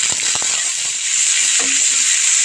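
Spices with chilli, cumin, coriander, salt and ginger-garlic paste sizzle steadily in a hot pan for aloo paratha filling, a continuous hiss with a few close clinks and scrapes of stirring.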